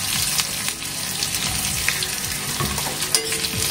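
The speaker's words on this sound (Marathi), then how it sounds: "कांदा छान इथे परतून घ्यायचं आहे आपल्याला." Onion, mustard seeds, cumin and curry leaves sautéing in hot oil for a Maharashtrian sprouted moth bean usal, a steady dense sizzle with scraping stirs running throughout, close and fairly loud.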